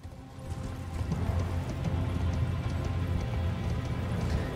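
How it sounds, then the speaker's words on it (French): Horse hooves during riding in the video game Elden Ring, a muffled rhythmic clopping under a low rumbling game soundscape, steady and moderately loud throughout. "on repart à dos de cheval"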